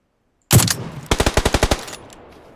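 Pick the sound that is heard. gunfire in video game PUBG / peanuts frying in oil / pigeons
gunfire in video game PUBG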